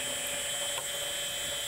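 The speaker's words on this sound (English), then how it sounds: "And here's the first gun drill." Gun drill boring a valve body held in a four-jaw chuck on a lathe: a faint, steady, high-pitched machining whine with a brief flicker partway through, continuous and free of talk.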